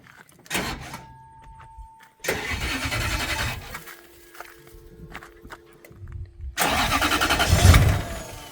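A Toyota 1UZ V8 swapped into a turbo Mazda RX7 cranks and fires, loud bursts of engine roar separated by quieter pauses with a few clicks, ending in a strong rising rev close by.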